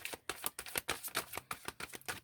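Tarot cards shuffled by hand in rapid, crisp riffling bursts, close and fairly quiet, with no talk.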